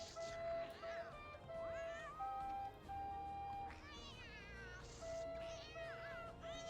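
A cat meowing in The Sims 2 medieval game, repeated plaintive meows and a drawn-out caterwaul rising and falling, heard over flute notes and soft background game music, fairly quiet.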